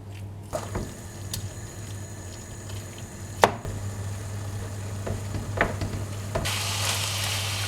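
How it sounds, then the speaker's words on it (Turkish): Ground meat stir-frying in a sac pan with water added, a steady sizzle with scattered clinks and scrapes of stirring, loud and close with no talking. "kıymamız suyunu çekene kadar karıştırarak kavuruyoruz"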